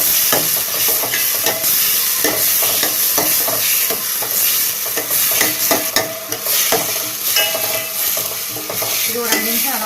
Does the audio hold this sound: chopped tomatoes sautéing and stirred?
yes